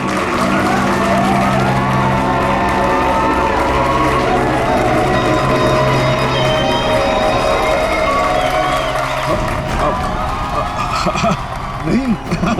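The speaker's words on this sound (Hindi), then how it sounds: "तालियां!" An audience at a stage show applauds and cheers, a steady wash of clapping and shouting crowd voices that holds loud and close throughout before thinning near the end.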